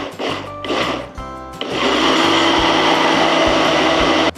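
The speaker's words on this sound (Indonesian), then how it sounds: "Langsung aja kita blend semuanya." Kitchen blender whirring through a yogurt and honey mixture for popsicles, starting with a few short pulses and then running steadily and loudly without any talk.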